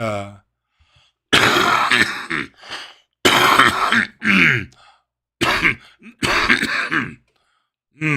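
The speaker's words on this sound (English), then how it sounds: "Still coughing this stuff up." A person coughs and clears their throat in several loud, harsh bursts separated by short silences, close by.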